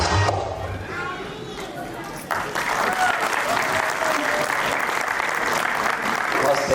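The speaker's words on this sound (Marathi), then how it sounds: "जोरदार टाळ्यांचा आवाज थोडा कमी येतोय मला वाटतंय" An audience at a school stage performance by an autism education society breaks into applause after a dramatic scene, a dense, steady clapping that swells and carries on at full strength.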